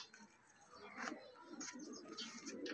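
Pigeons kept by a hobby pigeon fancier coo softly in a few short, low bursts, faint and fairly close, amid quiet chirps and background stillness.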